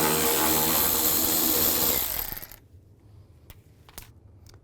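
A screw on the front bumper of a 2007-13 Chevy Avalanche is backed out with a 7mm socket. A loud, close whirring drive runs steadily for about two seconds and then stops, followed by a few light clicks and taps.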